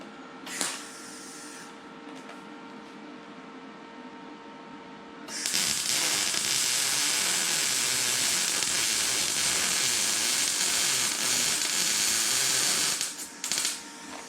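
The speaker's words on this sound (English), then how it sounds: "we're just going to tack this V-band right here into place" Tack welds fix a V-band clamp on a 4-inch Mufflex exhaust for an LS-swapped third-gen Camaro. A short buzzing burst comes first, followed by a long loud crackling sizzle that stops abruptly near the end.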